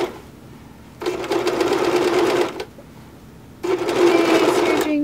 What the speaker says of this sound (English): serging skirt